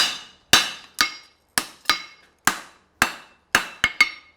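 Horseshoe hammered over the edge of an anvil while forging a hind preventer shoe, about ten sharp ringing metal blows in an uneven rhythm, close and loud, each one decaying quickly.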